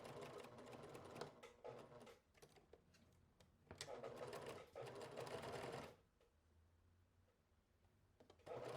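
A sewing machine stitches bow tails in long loud bursts with short pauses between them, then falls quiet near the end.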